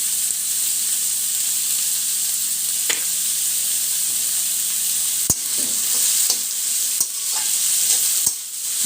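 Vegetable noodles stirred in a hot pan, a steady close sizzle and hiss with occasional scraping clicks of the utensil against the pan, no talking.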